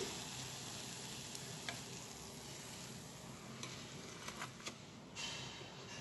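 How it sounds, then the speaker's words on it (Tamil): Sliced onion bhaji fries in hot oil with a continuous, even sizzle throughout and a few faint clicks of stirring, quiet and close, without any talking. "எல்லா ஆனியனையும் அது போல் பொரிச்சு எடுக்க போகிறேன்."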